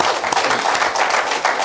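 Dense, steady audience applause at a business stage event, many hands clapping together in a continuous wash without pause.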